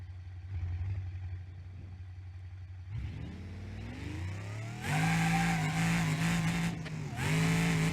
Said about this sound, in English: Feels like it's revving out a lot better.